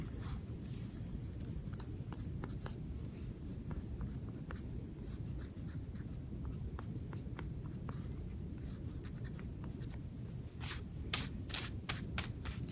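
White eraser rubbing out pencil marks on a thin Bible page: soft, rapid scrubbing strokes in quick irregular bursts, close and quiet, over a low steady hum.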